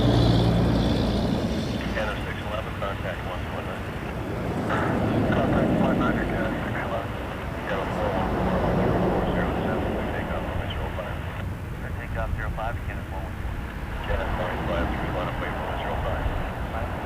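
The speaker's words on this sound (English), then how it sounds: "Lining up next, Air Canada 414 to Montreal." Air Canada A319 jet airliner taking off at Toronto Pearson Airport, a steady broad engine roar that swells and fades over the runway with wind, and a voice talking intermittently over it.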